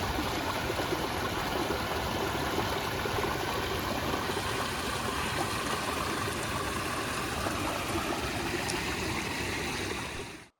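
Water rushes steadily over stones in a full pond (kulam) in Vavuniya, Sri Lanka, a dense, unbroken close-up flow that stays even for the whole stretch with no voices.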